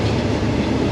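A Thai Special Express sleeper train rumbles steadily along the rails toward Bangkok, a dense, loud, continuous roar with faint clickety-clack under it and no voices.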